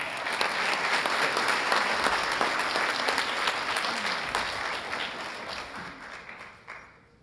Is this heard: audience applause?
yes